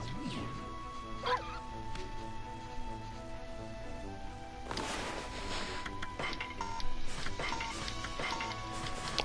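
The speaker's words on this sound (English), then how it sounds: "Another dog." A dog in Okami HD yips and barks in a few short bursts, with a brief crash partway through, over soft game music and a player's voice talking.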